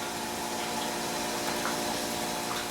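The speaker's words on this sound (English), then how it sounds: "to transfer it from the hot liquor tank to the mash tun" Hot water pumped from a hot liquor tank into a mash tun while homebrewing cream ale, a steady whooshing pump-and-flow rush that holds constant and close throughout.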